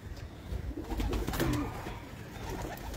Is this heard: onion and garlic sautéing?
no